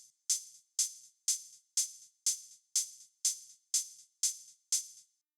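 A crisp, digital drum-machine hi-hat loop in an Afro House remix, ticking eleven times at an even, steady pulse, bright and close, each hit with a short sizzling decay.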